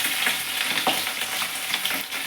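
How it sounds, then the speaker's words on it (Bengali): Tangra fish fry in hot oil, giving a dense, continuous sizzle that stays close and loud throughout, with a few faint scraping stirs and no talk. "মাছগুলো চাপা দিয়ে দিয়ে ভাজি।"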